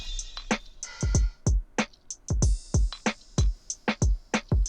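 Produced head-nodding drum beat with punchy kicks, snares and an open hi-hat, plus a rising riser sweep, playing in a bouncy repeating groove, loud and alone.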